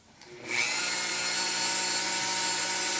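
A Dremel rotary tool polishing wire-wrapped prehnite jewelry starts with a faint whir, then spins up to a steady, loud, high-pitched whine that holds throughout.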